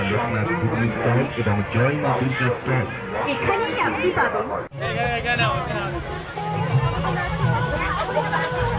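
Dense crowd chatter at the busy Krishnanagar fair, many overlapping voices in a steady loud babble throughout, close and continuous.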